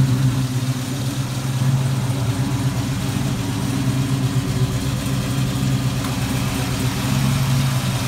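A 1969 Camaro Z28 Rally Sport with a 396 big block V8 and four-speed idles steadily with the hood raised, a deep, even rumble holding close and loud for the whole stretch with no talking.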